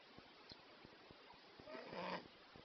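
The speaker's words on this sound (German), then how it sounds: "Shorty schnarcht" A sleeping dog snores softly nearby, with short faint rhythmic breaths and a louder rasping snort near the end, heard alone in a quiet room.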